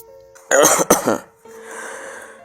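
A single dry cough, sharp and close, in two quick bursts, followed by a quiet hum of room tone.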